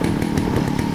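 A chainsaw engine in the video game Resident Evil 4 roars steadily at close range, a buzzing, rough motor drone with slight pulsing throughout.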